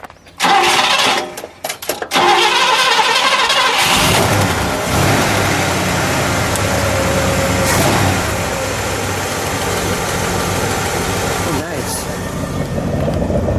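A 1960 Pontiac Bonneville engine with dual exhaust cranks with a few sputters, then catches and settles into a steady loud idle, with people talking nearby.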